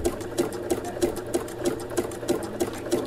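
A Bernina sewing machine fitted with an edge stitch foot runs steadily, its needle thumping in a quick even rhythm of roughly three stitches per second, close and clear with no talking over it.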